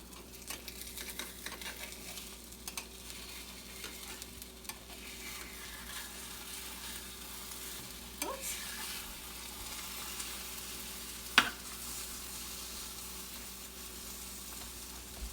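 A thick omelet fries in a pan at a camp kitchen, giving a faint, steady sizzle that runs throughout, with a few soft clicks and scrapes along the way.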